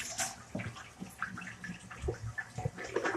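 Tap water runs steadily over hands being rinsed at a kitchen sink, with splashing and dripping textures that shift as the hands move beneath the stream, close by and moderately loud.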